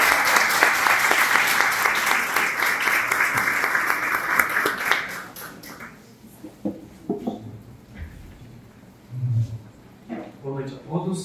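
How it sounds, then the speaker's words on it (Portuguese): An audience gives a round of applause to welcome a doctor before a talk on Alzheimer's prevention, dense steady clapping for about five seconds that then fades out, followed by a speaker talking. "uma salva de palmas"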